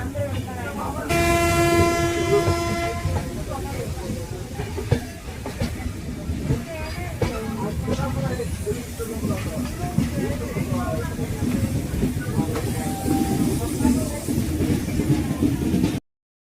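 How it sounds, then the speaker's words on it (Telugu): A Dharmavaram Express passenger train rumbles along steadily while its horn sounds one long, loud blast near the start, with voices talking faintly over the continuous clatter. "ఇదంతా వచ్చేసి మా ట్రైన్"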